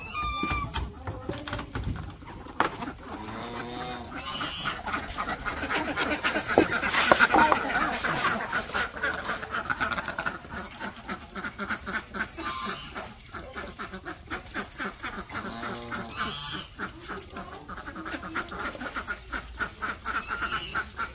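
Ducks in a Bangladeshi village quack and honk repeatedly in a busy, overlapping chorus close by, with people talking intermittently beneath the calls.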